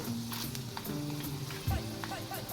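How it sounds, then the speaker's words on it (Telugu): Urad dal, mustard seeds and cumin frying in oil, a steady close sizzle with faint clinks and stirring scrapes throughout. "కొద్దిగా మినప్పప్పు ఆవాలు జీలకర్ర వేసుకుని కూడా వేయించుకుంటున్నాను"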